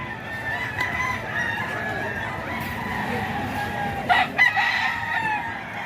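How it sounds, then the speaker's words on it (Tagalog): Many roosters crow together at a crowded gathering, a steady bed of overlapping calls with clucking underneath, and a couple of louder, nearer crows break through near the end. "So ang daming manok ngayon dito"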